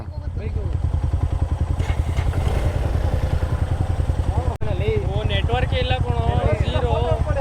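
A motorcycle riding off-road on a trail toward a waterfall chugs steadily with a rapid, even engine pulse close by throughout, and voices talk over the latter half.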